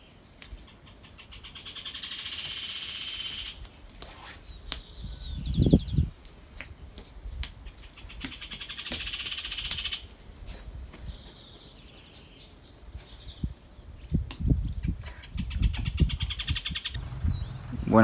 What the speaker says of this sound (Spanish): Se escuchan los pájaros.